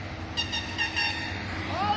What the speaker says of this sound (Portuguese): o caminhoneiro passou ali dando a buzinadinha pra sair no vídeo